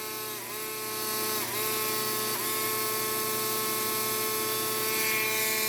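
A fast-spinning Dremel rotary tool works the edge of a Cutco serrated knife, a loud steady high-pitched whine with brief dips in pitch as it bites into the serrations.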